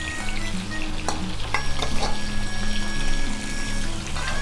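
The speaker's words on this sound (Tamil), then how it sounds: "நல்லா இறால் ஃப்ரை ஆனதுமே நம்ம எடுக்கலாம்" Prawns deep frying for prawn Manchurian, a second batch bubbling steadily in hot oil with a continuous sizzle under tonal background music.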